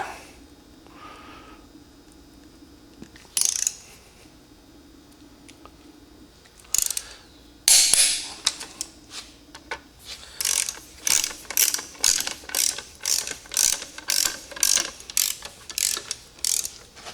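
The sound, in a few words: torque wrench ratcheting cylinder head studs on 1948 Silver King tractor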